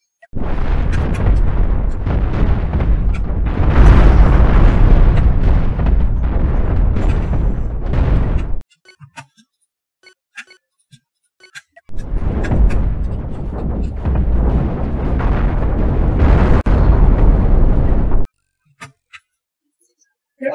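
Heavy cannon fire and explosions rumble in the space-ship combat game Cosmoteer, two long dense bursts of booming blasts separated by a near-silent gap with scattered small pops.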